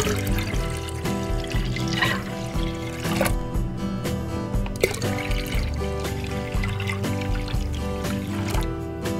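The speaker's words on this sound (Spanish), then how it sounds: "Agregamos más agua." Water splashes and gurgles steadily into a pitcher of carrot drink with condensed milk, a continuous close pour with bubbling tones and a few clinks, no one talking.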